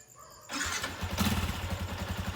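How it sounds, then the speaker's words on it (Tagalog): A Sniper 150 Fi motorcycle engine cranks and catches after a brief starter whir, then settles into a steady, loud idle close by. "atin pong pandarin yung makina"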